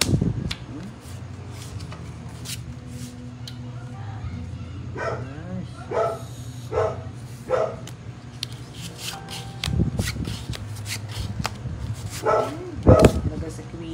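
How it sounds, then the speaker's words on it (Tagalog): A noisy household dog barks in a series of sharp, separate yaps spread across the scene, some louder and closer than others, over a low hum and intermittent talk from people playing a card game. "Pasensya na po kayo sa aso namin, sadyang maingay."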